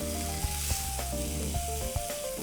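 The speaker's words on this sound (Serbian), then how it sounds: "A svinjski file ću ostaviti još po minut sa svake strane bočne i malo da iskoristim da pokupi ove sokove iz tiganja" Pork fillet frying in a pan with its juices, a soft steady sizzle with small crackling pops, fairly quiet and with no talk over it.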